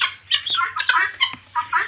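Chinese chickens clucking and squawking in a series of short, fairly close bursts, with a low steady hum underneath and no talking.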